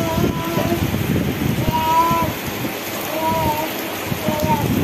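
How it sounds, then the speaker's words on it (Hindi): Heavy rain pours steadily and close by, a dense broadband wash that continues under someone talking, with a few brief tonal sounds over it. "बारिश इतना ज़्यादा है"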